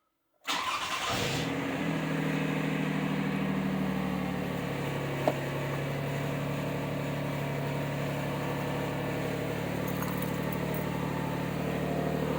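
A car with 164,000 miles and an exhaust leak cold-starts in January at 52 degrees: a sharp crank and catch, then a steady, fairly loud idle holding evenly throughout.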